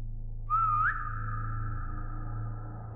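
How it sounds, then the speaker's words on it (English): A single synthetic whistle in the Roblox game SCP-3008 rises briefly, then holds a steady sustained tone for a couple of seconds over a constant low hum. "I think I'm going to set the whistle to something else."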